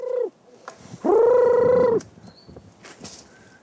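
Pheasants flushed out of woods by beaters at a shoot give loud, harsh calls: one short cry, then a longer, strained one, heard close with quiet rustling between.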